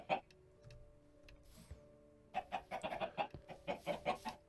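Chickens in the TerraFirmaCraft game cluck in short, repeated bursts, sparse at first then a quick run of clucks toward the end, fairly quiet, with a faint ticking and the odd soft game effect between.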